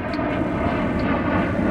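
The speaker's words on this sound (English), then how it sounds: "Wait for, hold for plane." An airplane passes overhead with a steady, loud engine roar that fills the whole moment without a break, and no voices are heard.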